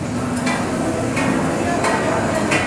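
Mussel omelette (hoi tod) frying on a hot pan at a Thai market stall: a steady, busy sizzle with sharp metal scrapes of a spatula every second or so, close and fairly loud.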